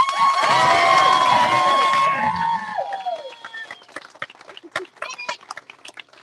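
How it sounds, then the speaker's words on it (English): An audience at a rowing race finish claps and cheers for the crew, loud at first and then fading into scattered claps and calls over a couple of seconds. "a big applause for the girls!"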